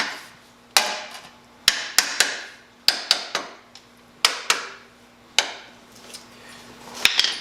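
A hammer strikes metal in sharp, uneven blows, a dozen or so loud close impacts with short ringing decay, fitting a rust repair piece into a Jeep YJ Wrangler rear frame.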